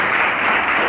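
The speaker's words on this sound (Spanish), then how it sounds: "Le damos un aplauso al Señor en esta mañana." Church congregation clapping together, a dense, loud burst of applause filling the moment without talk.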